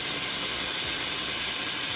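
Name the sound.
steam discharging from vintage Gaggia Orione espresso machine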